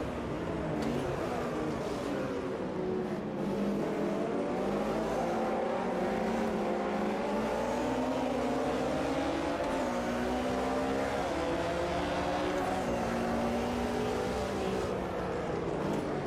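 Many race car engines roar together at a race start in the Automobilista 2 video game, a dense, continuous wall of overlapping revving and gear changes, loud and close throughout with no pauses.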